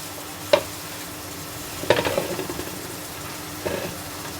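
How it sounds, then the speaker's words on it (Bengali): Fish being gently stirred in a cooking pan, giving three short scraping, clattering stirs spaced a second or more apart over a faint, steady sizzle. "মাছগুলোকে এখন আলতোভাবে নেড়ে"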